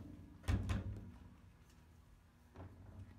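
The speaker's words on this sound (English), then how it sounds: "Now you may open the doors" The doors on a BOSS semi-automatic cutoff saw are opened, giving a close, solid clunk with a short rattle, then quieter handling and a second softer knock about two seconds later in a quiet room.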